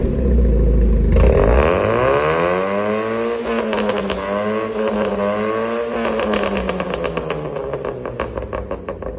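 A car's engine revs hard through an opened exhaust muffler valve, rising from idle to a loud sustained roar with sweeping pitch, then settling into a rapid burbling, popping idle toward the end.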